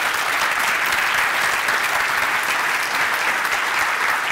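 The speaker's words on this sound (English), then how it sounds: "just a big clap" A large conference audience claps steadily, a dense, even wash of applause sustained throughout with no voices standing out.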